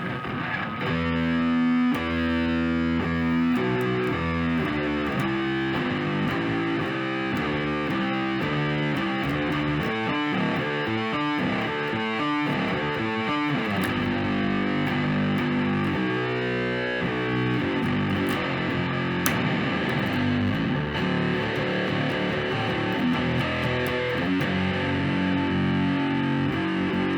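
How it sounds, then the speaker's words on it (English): Electric guitar played through compression, distortion and fuzz effects, a thick, loud, saturated tone with sustained chords and shifting riffs filling the whole stretch without pause, no voices. "I'm going to do compression, distortion, and fuzz so you can get a sense of what that all sounds like together"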